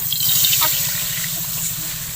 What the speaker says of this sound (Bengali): তো একই কড়াইয়ের মধ্যে আমি জল দিয়ে দেবো।